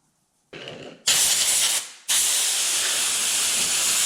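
Acetone hisses out of a spray can onto a plastic steering wheel in close, loud bursts: a short lighter spray, a brief pause, then a long sustained spray.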